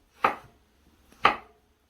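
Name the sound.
knife chopping vegetable root pieces on cutting board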